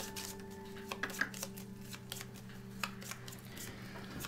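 Cards being shuffled for the Aeon's End Legacy board game, a series of soft riffling bursts and flicks over a quiet room hum, fairly close and low in volume.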